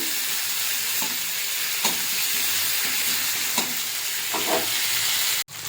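Finely chopped tender neem leaves fry in oil in a pan with a continuous close sizzle, broken by a few soft scrapes of stirring.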